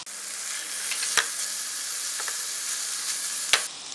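Leftover rice tossed with sauces for Schezwan fried rice in a pan, a steady close hissing sizzle with two sharp spoon clicks against the metal.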